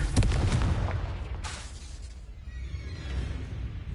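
Confringo blasting spell in Hogwarts Legacy, a heavy booming explosion at the start followed by a second burst and a fading rumble, loud and alone.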